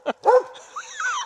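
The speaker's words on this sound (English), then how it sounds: "Think the dog's excited." A dog gives a short excited bark followed by whining, yelping cries, close and loud, heard on its own.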